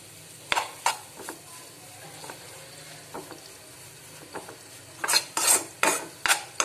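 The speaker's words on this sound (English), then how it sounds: "Until the rawness of the maida goes away and it turns to a little golden brown in color," Maida flour frying in butter in a pan, with soft sizzling and scraping stir strokes, intermittent and close, growing a little louder toward the end.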